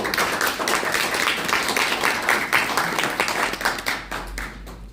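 A crowd claps steadily at the opening of a Yongsan National Assembly candidate's campaign office, the dense applause holding for several seconds before thinning out near the end.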